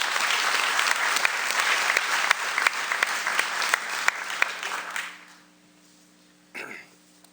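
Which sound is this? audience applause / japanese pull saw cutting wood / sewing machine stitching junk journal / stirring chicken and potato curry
audience applause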